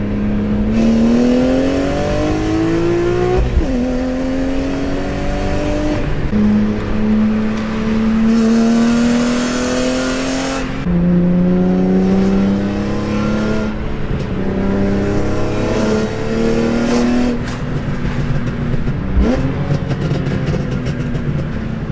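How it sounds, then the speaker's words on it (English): A BMW E46 M3 with 6-into-1 long tube racing headers and a Rogue Engineering Diablo exhaust revs loudly and close by, its engine note climbing and dropping again in repeated pulls that each rise smoothly in pitch. "this car sounds like no other E46 M3 on the street"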